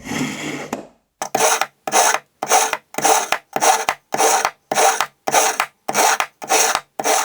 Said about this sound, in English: So then I used the ceramic slot to refine the edge.